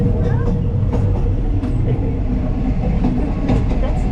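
Loud, steady rumble of an overnight second-class train from Bangkok to Chiang Mai rolling over rails, heard through a hole-in-the-floor toilet, with rattling clacks and metallic clatter throughout.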